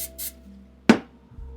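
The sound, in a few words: spraying Pam cooking spray into a bowl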